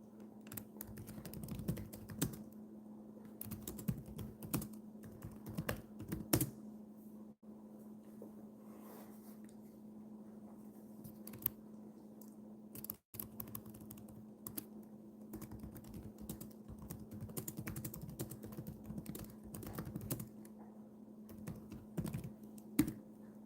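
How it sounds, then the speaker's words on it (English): Steady, rapid clatter from nearby typing on a Chromebook laptop keyboard, with uneven bursts of keystrokes and a couple of brief pauses, over a low constant hum. "I'm typing on my Chromebook"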